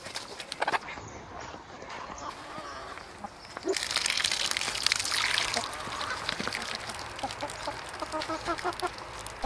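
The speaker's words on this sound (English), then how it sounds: "The chickens are happy this morning." Chickens cluck and murmur steadily close by, with bird calls running continuously under a soft outdoor background.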